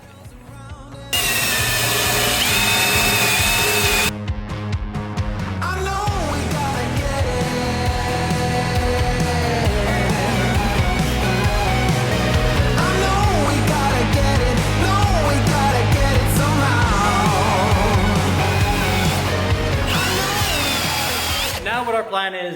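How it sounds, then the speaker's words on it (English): A power tool whines loudly and continuously, its pitch shifting as it grinds seam sealer off the metal of a Porsche Cayman, with brief pauses and talk mixed in. "now we're going to work on grinding the seam sealer down"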